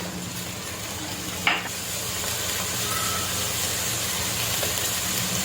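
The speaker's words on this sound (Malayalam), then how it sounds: "സവാള കുറച്ച് ഉപ്പ് ചേർത്ത് വഴറ്റി കൊടുക്കാവുന്നതാണ്." Onions sautéing with salt in a pan for a country chicken biryani, giving a steady low sizzle and frying hiss throughout, with one brief stir or scrape midway.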